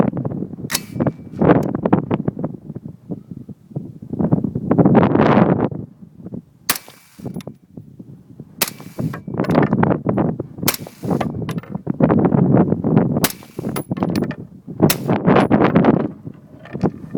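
Several sharp suppressed shots from a 5.56 rifle fitted with a SureFire suppressor ring out at irregular intervals, each a brief loud crack, separated by steady wind-like background noise.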